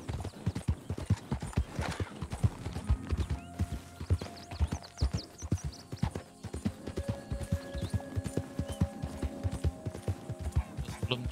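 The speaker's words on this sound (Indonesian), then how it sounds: "Kuda kita udah korengan." Horse hooves clip-clopping in Red Dead Redemption 2, a steady, fairly quick rhythmic clatter of hoofbeats throughout, with a brief whinny and some game sounds mixed in.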